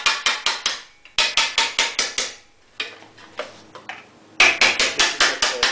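A hammer and dolly knock down a high spot on a car fender, sharp metallic strikes in quick bursts of four to six blows separated by short pauses, close and loud.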